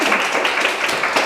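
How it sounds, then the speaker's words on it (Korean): Dense, steady audience applause closes a PR talk event held by the Korea Public Relations Association, with many hands clapping loudly and evenly throughout. "박수 부탁드립니다"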